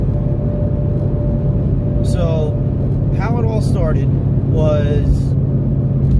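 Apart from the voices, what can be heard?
engine drone of a 5.0 car driven without mufflers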